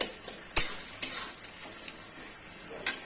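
Beto shak greens stirred in a pan as the last of the water cooks off, a faint soft sizzle punctuated by a few sharp metallic clinks of a spoon against the pan, no talking.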